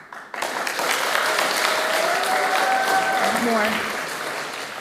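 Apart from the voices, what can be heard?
audience applauding on request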